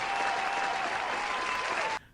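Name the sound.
applause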